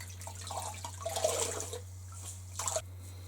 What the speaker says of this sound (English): So I'm gonna rinse this off now.